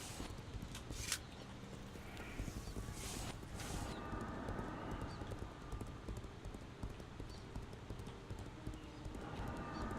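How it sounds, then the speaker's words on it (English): Horse hooves clip-clop steadily through the whole stretch in the Legends of Aria online role-playing game, a continuous even rhythm of hoofbeats set against a busy, noisy game soundscape. "Where'd my horse go?"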